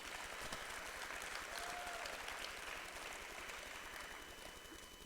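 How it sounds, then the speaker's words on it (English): Audience applause fills a college athletics awards ceremony, a dense, steady clapping from a crowd that stays loud throughout and tapers only slightly near the end. "So Kodiaks, give Shelley a big round of applause."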